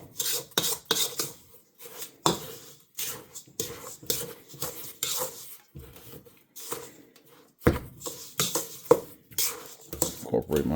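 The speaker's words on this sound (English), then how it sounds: "I'm just going to incorporate the sugar with the butter." Sugar is worked into butter in a bowl for a strawberry pound cake, giving irregular gritty scraping and rubbing strokes in short bursts with pauses, close up and moderately loud.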